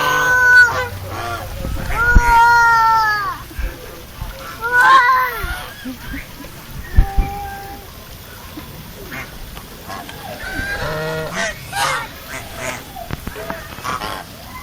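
Ducks and geese bathing while being herded near Merapi, Indonesia, give repeated loud quacks and honks with splashing water, and people talk nearby.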